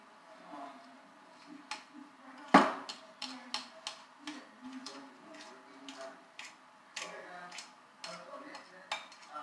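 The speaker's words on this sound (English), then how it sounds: "I'll just keep on mixing it and mixing it and mixing it." Homemade slime being mixed in a container, heard as a string of sharp clicks and taps from the utensil, with one loud knock early on, irregular and close, with no talking.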